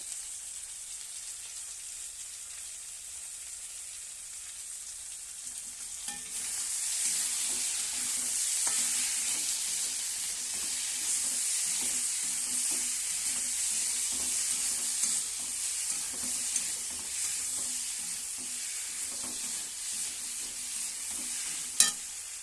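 Prawns and vegetables fry in hot oil in a pan, a loud, continuous hissing sizzle that flares up after a quieter start, broken by repeated scraping and clacking from stirring.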